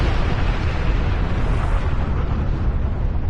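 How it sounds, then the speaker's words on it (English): A torpedo launching in a naval video game, a loud sustained rumbling whoosh and boom that fills the whole stretch, fading slightly toward the end. "I was wondering if my torpedo was ever going to fire."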